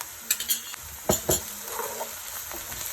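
Finely chopped onion with garlic ginger paste frying in a pan for chicken samosa filling, a soft steady sizzle broken by a few sharp clinks and scrapes of a spoon stirring against the pan.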